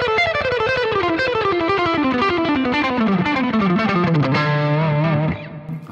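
Fast alternate picking on an electric guitar pours out a rapid stream of notes sliding steadily lower in pitch, ending on a held low note that rings and then cuts off.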